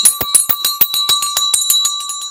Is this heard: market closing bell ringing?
yes